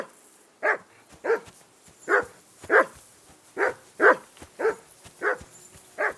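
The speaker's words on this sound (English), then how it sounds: "I assume you can hear that damn dog of yours barking." A dog in Kingdom Come: Deliverance II, at a riverbank camp, barks in a steady series of about ten sharp barks at even intervals. The barking is moderately close over a faint background hiss.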